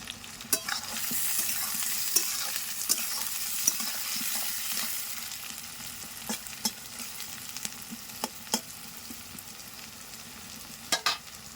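Chopped tomatoes and green chilli fry in a pan for a chicken curry, a gentle close sizzle with a hissy start settling lower, punctuated by scattered spoon taps and scrapes, no voices.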